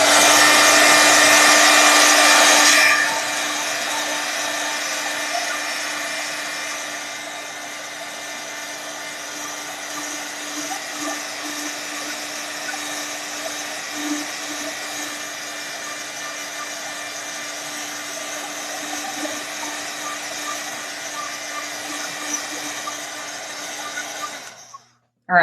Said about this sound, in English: I'm going to be turning on that dryer, so it's going to get a little loud for a second